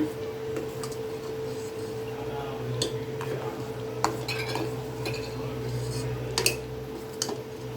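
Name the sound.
stirring sweet raw mango pachadi in a pan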